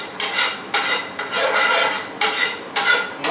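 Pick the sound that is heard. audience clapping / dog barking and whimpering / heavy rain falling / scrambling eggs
scrambling eggs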